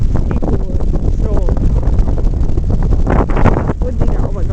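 Heavy wind pounds the microphone outdoors during a February snowstorm in New York City, a loud, rumbling, gusty roar throughout, with a person talking under it.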